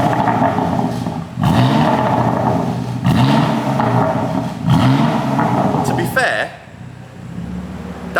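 A stock-exhaust BMW M4 revving in repeated bursts, roughly four rises and falls of engine pitch, fairly loud and close, before dropping to a lower idle near the end; voices are faintly mixed in.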